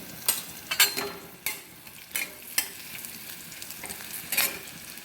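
Hot oil tempering with turmeric crackles and sizzles steadily, with sharp pops and spatters bursting out every half second or so.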